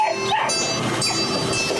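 A dog yaps and whimpers in short, high bursts during a theatre play, close and fairly clear with little talk around it.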